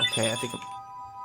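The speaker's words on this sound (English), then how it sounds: "Oh no, that's your phone." A mobile phone plays a tonal ringtone with steady melodic notes that start under brief talk and then carry on alone, faintly held, before cutting off.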